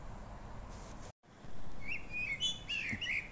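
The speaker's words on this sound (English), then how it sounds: "A blackbird and beautiful singer." A blackbird sings clear, fluid whistled phrases over a steady low background hum, several short melodic bursts in a row, outdoors.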